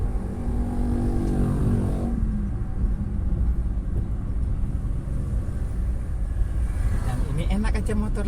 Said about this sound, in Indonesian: Enak saja motor liwat.